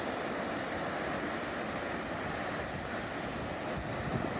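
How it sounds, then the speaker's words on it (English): Ocean waves wash in a steady broadband roar, close and constant with wind noise mixed in and no voices. "Goo Goo loves the ocean."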